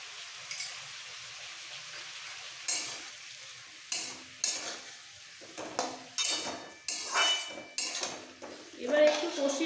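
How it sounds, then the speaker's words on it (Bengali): Ginger and cumin paste fries in a pan with a soft sizzle as a spoon repeatedly scrapes and clanks against the metal, stirring in uneven bursts, close and clear. "এবার একটু কষিয়ে নেবো।"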